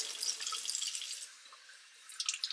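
Cold tap water runs and splashes as food is swished around in a sink and drained, a steady close wash of water with dripping bursts at the end.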